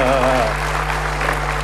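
Studio audience at an Indonesian television talk show applauding briefly, a soft even patter of clapping over a steady low hum, with a voice speaking at the start.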